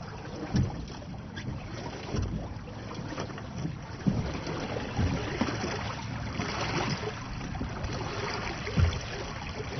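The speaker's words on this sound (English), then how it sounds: "Going downwind is extremely peaceful in Slider because we don't have much roll to contend with." A small sailboat running downwind on open water, with steady wind buffeting the microphone and a continuous wash of water along the hull, broken by a few louder splashes and knocks.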